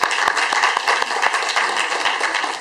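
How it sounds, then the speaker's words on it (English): Dense, steady audience applause at a student leadership summit closing, many hands clapping continuously and loudly for the full stretch with no talk over it. "Applause for that."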